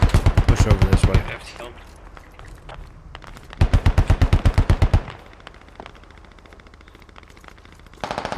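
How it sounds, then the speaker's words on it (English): Machine gun bursts in the military shooter Squad, two rapid loud bursts of about a dozen shots each with quieter distant fire between them and another burst beginning at the end. "Something tells me that that machine gun burst came from this rock group here."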